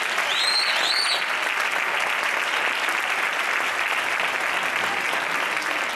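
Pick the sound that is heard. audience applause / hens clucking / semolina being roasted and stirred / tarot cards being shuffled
audience applause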